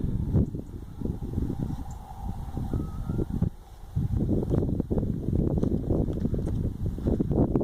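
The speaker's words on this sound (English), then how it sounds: "I'm trying to avoid the wind, it seems to be following me around." Wind gusts across the Header Reservoir on the Manchester Bolton Bury Canal, buffeting the microphone with a continuous low rumble that rises and falls throughout, with no voices present.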